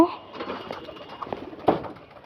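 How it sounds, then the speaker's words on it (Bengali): Pigeons coo softly from nearby in a short burst, with a few low, rounded calls and faint background noise. "আজকে আমরা আবার কবুতরগুলোকে ছাড়বো"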